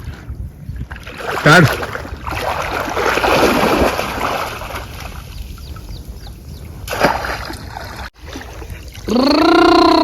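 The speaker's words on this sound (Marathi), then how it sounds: "होडी चालली आहे" A rowing boat moves through a mangrove creek, with splashes and water swishing close by, a brief whistle-like tone early on, and a louder rising vocal or engine-like sound near the end.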